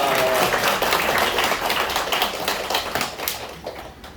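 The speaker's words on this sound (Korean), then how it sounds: "한번 박수하겠습니다" Church congregation applauding during a service, a full burst of clapping that starts strong and gradually thins out toward the end, with scattered individual claps remaining.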